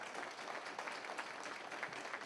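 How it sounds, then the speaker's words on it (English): Applause from the audience at a high school athletics hall of fame induction ceremony, a steady wash of many hands clapping, fairly faint and distant in a large room, with no talk over it. "Let's give them a round of applause."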